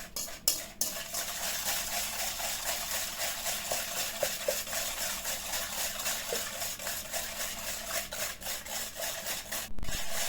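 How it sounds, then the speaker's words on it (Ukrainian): Eggs and sugar for apple pastries are stirred briskly in a bowl, giving a steady, rhythmic scraping and rubbing that continues alone for about ten seconds with a few brief pauses. "Всі ці яйця з цукром я зараз перетру швиденько."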